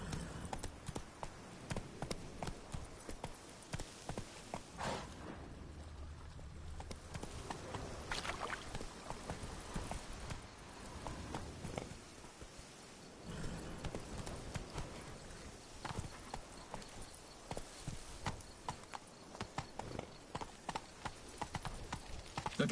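Roach, Geralt's horse in The Witcher 3: Wild Hunt, galloping in a rapid, steady hoof rhythm that carries on for over twenty seconds at moderate volume, with brief quieter patches and faint background game sound.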